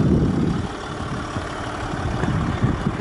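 Jaguar XF diesel engine idling, a steady low rumble ticking over evenly for a few seconds with no talk.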